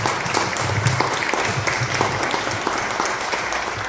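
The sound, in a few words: audience applause for Erik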